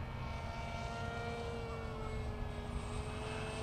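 A modified Bixler 2 RC plane fitted with an NTM motor and a 7x4 propeller flies nearby, its electric motor giving a steady, loud, continuous whine with a faint rising tone near the end and no talking.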